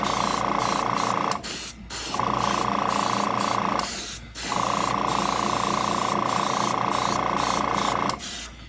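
Short bursts of black mist coating sprayed onto a painted figure, three steady hissing blasts with brief pauses between, close and fairly quiet.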